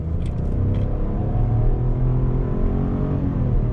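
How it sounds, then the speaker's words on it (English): A 2020 Buick Encore GX SUV accelerating hard at full throttle, its engine drone rising steadily in pitch under a loud continuous cabin rumble, heard from inside with no talking. "Let's do an acceleration test here. Left foot brake, on throttle."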